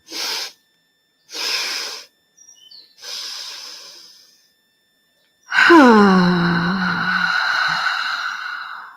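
Several short sharp breaths come first, then a long voiced exhale through an open mouth, slowly trailing away.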